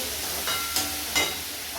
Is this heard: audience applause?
no